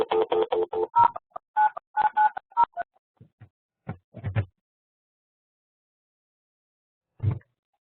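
A telephone dials in to an online meeting with a rapid run of clear, loud DTMF keypad tones in quick bursts, followed by sparse clicks and low thumps with long silent gaps on the line.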